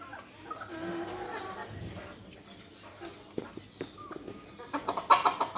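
Chickens cluck and murmur in a farm shed, a few soft calls at first building to louder, choppy clucks and squawks near the end, with some scattered knocks in the background.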